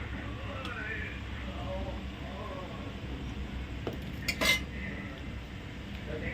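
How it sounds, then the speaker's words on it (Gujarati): A spoon stirs custard powder into milk for basundi, with light scraping and clinking of metal against a vessel, a brief louder clink near the end, under a steady low background hum. "ચમચીથી એકદમ મિક્સ કરી દઈશું"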